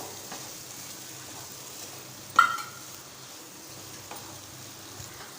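Grated coconut being stirred into a red poha mixture with red aval and moong dal, a soft scraping and rustling with a sharper clatter midway, faint and close, with no talk.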